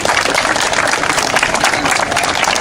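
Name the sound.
applause for community volunteers at a mock wreck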